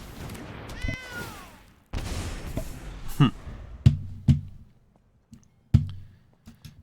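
A cat gives a short rising-and-falling meow near the start, followed by scattered clicks and soft thumps in an indoor room.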